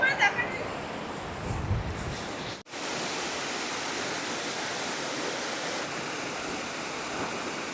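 Ratmohana falls, a small waterfall in Ghatsila with low winter flow, gives a steady broadband rush of falling water; a brief handling thump near the start, then continuous even splashing.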